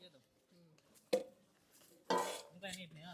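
A plate set down with a clink of dishes and cutlery while cooking masala rice and chicken curry outdoors on a hilltop near a temple; two brief clattering knocks, the second louder and longer, with voices nearby.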